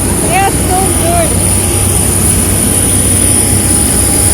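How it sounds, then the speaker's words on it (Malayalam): A passenger jet airliner at Nairobi airport gives off a steady, continuous engine roar with a thin high whine on top, and a few brief chirps sound early on. "ഇതാണ് നമ്മൾ വന്ന ഫ്ലൈറ്റ്"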